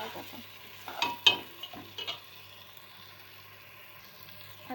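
Masale bhat with dal and peanuts mixed in a pan, soft sizzle with a few brief spoon scrapes and clinks near the start, then a faint steady frying hiss.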